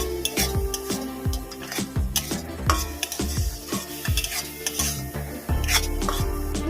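Chili powder and turmeric sizzle as they are sautéed in a pan of spice paste for a Bengali prawn dish, with steady frying hiss broken by spoon scrapes and light clinks against the pan.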